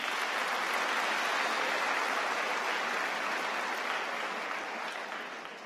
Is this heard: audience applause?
yes